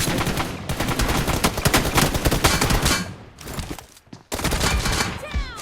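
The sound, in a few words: gunfire in a video game (PUBG TDM)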